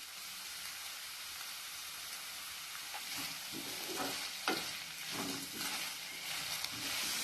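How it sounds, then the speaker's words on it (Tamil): Chayote pieces sautéed and stirred in a pan, a steady close sizzle with scraping stir strokes growing busier toward the end, no voices. "காயை இது மாதிரி நல்லா வதக்கி விட்டுட்டு"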